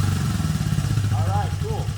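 A 1977 Honda CJ360T motorcycle engine catches on the first kick and runs steadily with a loud, close, low rumble throughout, while a voice whoops and calls out over it.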